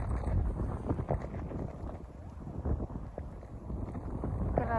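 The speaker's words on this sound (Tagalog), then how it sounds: "Ang lakas ng hangin." Strong wind roars through a snowstorm in a constant, broadband rush, gusting and buffeting the microphone close up, with scattered rattling and knocking beneath it and no voices.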